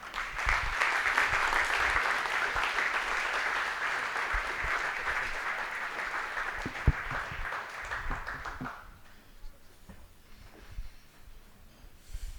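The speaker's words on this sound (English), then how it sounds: "a massive round of applause again" A large audience at a corporate event claps loudly and continuously for impact partners, the applause holding strong for several seconds before fading out into quieter room noise.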